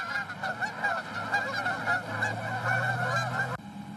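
Geese honking repeatedly, a lively overlapping chorus of nasal calls at close range, cutting off abruptly near the end.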